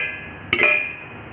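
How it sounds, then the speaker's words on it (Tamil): A single popcorn kernel pops once inside a covered pan, a brief sharp crack over a steady sizzling hiss. "பாப் ஆகிற சத்தம் கேட்குது பாருங்க."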